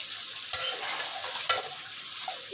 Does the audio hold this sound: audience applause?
no